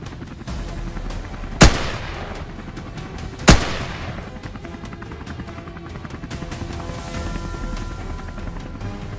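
Two sharp, loud hunting rifle shots fired at wild boars from an elevated position, spaced about two seconds apart, each ringing out over a steady low rumble of background noise.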